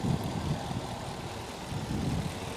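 A Mercedes C63 AMG W204 coupe with a 6.2 litre V8 and Milltek secondary decats runs with a steady, deep low rumble, close and even, with no one talking.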